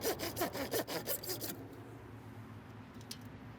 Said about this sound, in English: Now cut on both sides of the valve and remove.